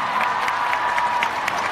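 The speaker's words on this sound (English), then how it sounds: "let's give them a round of applause." Audience applause at a WE Day youth event in Canada, a dense, even wash of many hands clapping at once, steady and continuous through the whole short stretch.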